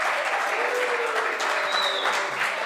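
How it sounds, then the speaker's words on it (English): Steady applause for podcast guest Gina Burgess, a dense wash of clapping that holds at an even level for under three seconds with no voices over it. "how about a round of applause for Gina Burgess?"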